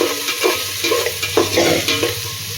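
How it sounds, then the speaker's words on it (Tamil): Salt stirred into frying ingredients in a pan while preparing paneer pulao, rhythmic spatula scrapes and stirring over a soft sizzle, close and loud with no talk. "உப்பு சேர்த்துட்டு நல்லா கலந்து விட்டுடலாம்"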